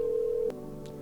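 A single sustained electronic telephone tone in a video game cuts off partway through, followed by a faint click and a brief soft blip, clean and close.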